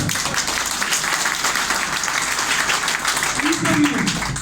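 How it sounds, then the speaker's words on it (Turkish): A crowd at a CHP mayoral campaign gathering in Sındırgı, Balıkesir, claps continuously in a dense, even wash of applause, with a voice briefly rising over it near the end. "Sana bir alkış yapayım iki elim dolu."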